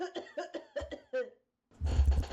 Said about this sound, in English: the compilation of me coughing in your ear